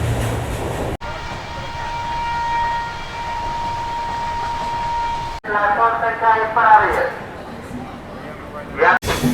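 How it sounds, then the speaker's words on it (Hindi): A Howrah–Delhi Duronto express passes through Sitarampur Junction, heard from inside a sleeper-class coach as a steady humming rumble, then rattling clatter and swelling wheel noise, cut by abrupt breaks. "सीतारामपुर जंक्शन जो है क्रॉस कर रही है अपनी ट्रेन।"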